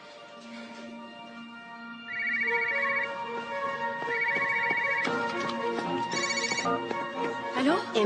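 A telephone rings with a warbling electronic ringtone in repeated bursts over a soft musical background, with some speech in the scene.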